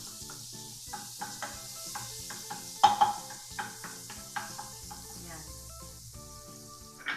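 Butter melts in a hot pan as a gravy for mashed potatoes begins, a soft sizzle under repeated light clinks and scrapes of a utensil, with a brief spoken word.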